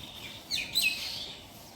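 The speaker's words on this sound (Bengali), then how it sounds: "কতগুলো পাখি ডাকছে কিচিমিচি করছে" Small birds chirp at about half past five in the morning, two faint bright tweets in quick succession over quiet background hiss.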